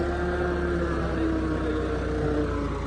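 Tractor engines, a 3630 and a 5911, labour in a maize field with a steady low diesel drone and rumble throughout, loud and continuous without pause.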